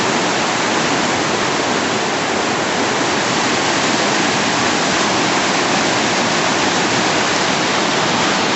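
A river running high and full after days of heavy rain near Puente Chelo, Betanzos, A Coruña, Galicia, pouring as a loud, steady, broadband rush of water that never lets up.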